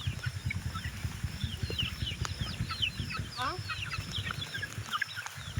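Chickens cluck and chatter in a busy outdoor flock, with high birdsong overhead and steady low background noise.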